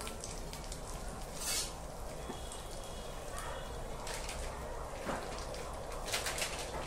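Turmeric and asafoetida frying in oil over a medium gas flame in a pan, a steady soft crackling sizzle with faint chirping pops, continuous and close throughout.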